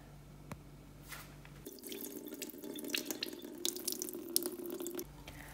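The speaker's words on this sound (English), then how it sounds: "Now I'm going to drain the water." Water draining from soaked rice and lentils for dosa batter, a steady splashing, trickling pour into a sink with a few drips before and after, close by and without talk.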